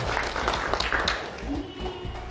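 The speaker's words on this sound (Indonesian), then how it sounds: "Tepuk tangan." Applause from a crowd at a community event honouring a village tourism award, a short burst of mixed clapping with voices talking through it, moderately near.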